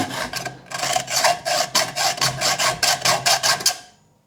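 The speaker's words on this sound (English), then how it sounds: "just put your blade to the side of one of these bolts and start cutting" A blade saws through a steel bolt in quick, regular back-and-forth strokes, about a dozen rasping passes close up with no talking, before stopping abruptly.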